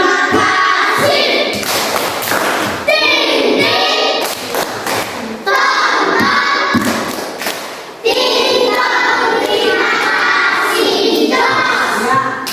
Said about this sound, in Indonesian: Ya, coba tepuk terima kasih.